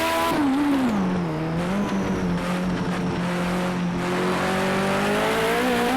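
Group 5 race car in Project Cars 2 on the Long Beach street circuit, its engine droning loud and steady with rising and falling pitch as it accelerates and brakes, tires squealing faintly underneath, heard alone without talk.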